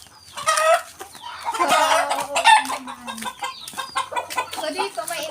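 Chickens clucking and squawking close by at feeding time, with a rooster among them; busy, uneven calls overlap throughout, with a brief voice in the background.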